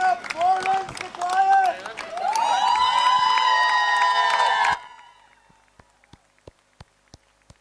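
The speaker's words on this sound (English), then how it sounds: "He's being cheered on by the crowd." Spectators at an under-15 interschool cricket grand final shout and cheer for Javed Miandad, loud and sustained for several seconds before cutting off, leaving faint crowd murmur with a few sharp claps or knocks.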